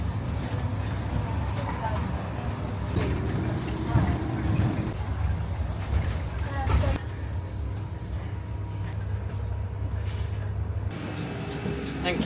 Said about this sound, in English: I just had a really nice bus journey right through the city centre of Oxford